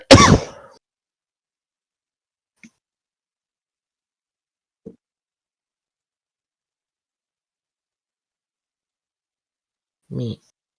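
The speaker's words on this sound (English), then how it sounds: "I haven't been able to get to sleep because of my freaking cough" A single sharp cough, then silence broken by two faint throat sounds and a short final throat-clearing rasp.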